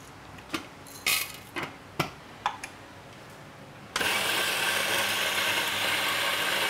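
Coffee beans clatter in a few sharp mechanical clicks as a grinder is loaded and cranked, then a loud steady grinding whir starts abruptly and runs on without pause.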